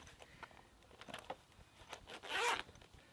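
A zip-up pouch holding a power cord is unzipped, a brief faint rasp among soft handling noises near the end.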